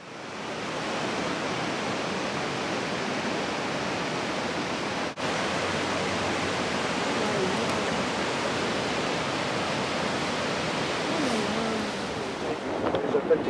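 At Capilano park, a river rushes below a cliffside walkway built into the rock, a dense, steady roar of water that barely changes, with one sharp click partway through.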